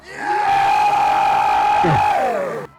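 A church congregation at a French-language service erupts in a sustained roar of shouts and cries of joy, loud and dense, swelling and holding for a couple of seconds before cutting off.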